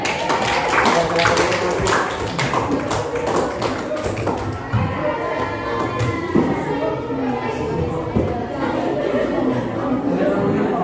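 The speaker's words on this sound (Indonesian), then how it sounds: "Oke, tepuk tangan." A school class clapping together, a dense, fast patter of many hands that stays steady and loud throughout, with some chatter mixed in.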